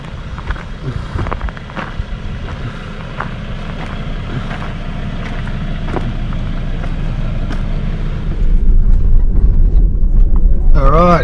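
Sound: car driving on a high country track

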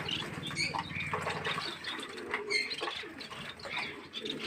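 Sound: pigeons cooing in their enclosures

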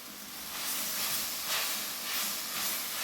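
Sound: moringa leaves sautéing in a pan with turmeric

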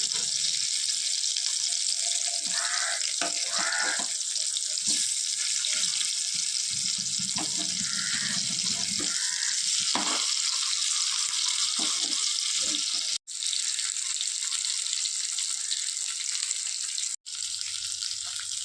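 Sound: fish frying in oil

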